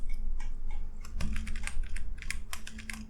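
Fast typing of code on a computer keyboard, close and clear, with rapid irregular keystrokes in bursts and no talking.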